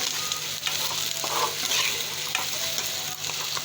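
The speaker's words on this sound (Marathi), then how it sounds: "त्याला छान तेलामध्ये फ्राय होऊ दे." Chopped ivy gourd pieces fry in hot oil with onion, giving a steady, close sizzle with light crackling and the occasional scrape of stirring, and nobody speaks over it.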